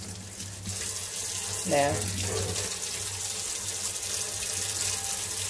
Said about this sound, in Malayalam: അധികം സ്പീഡില്ലാണ്ട് ഒന്ന് വെള്ളം പതുക്കെ വലിച്ചെടുക്കാം.